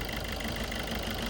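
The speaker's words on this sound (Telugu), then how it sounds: "బండి ఇంజన్ సైలెంట్ ఉందండి." A motorbike engine idles quietly and smoothly, a faint steady low chug with a soft even pulse and no revving.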